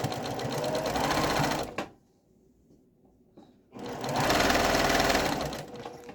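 Sewing machine stitching a pillow case, running loud and steady in two bursts separated by a quiet pause of about two seconds, close up with no talk.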